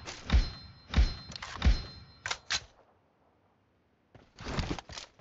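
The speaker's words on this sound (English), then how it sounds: "Reloading!" Reloading an M416 rifle in a video game: a series of crisp mechanical clicks and thunks, magazine and bolt sounds spaced out, then a pause and a final cluster of clacks.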